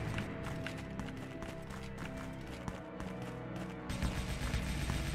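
AK rifle fire in a video game, rapid sharp shots cracking in repeated bursts over a busy background of game noise, with no talk.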